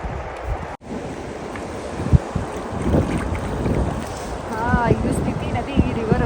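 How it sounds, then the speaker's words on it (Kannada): The Spiti River flows nearby as a continuous rushing roar mixed with heavy wind buffeting the microphone. A voice speaks over the water noise. "ಇದು ಸ್ಪಿತಿ ನದಿ, ರಿವರು."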